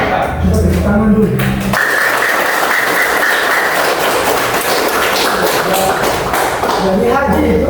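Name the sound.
audience clapping hands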